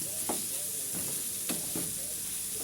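Onions sizzling in a pan for chicken shawarma, a constant close hiss broken by a few sharp scraping stirs at irregular intervals, with no voice present.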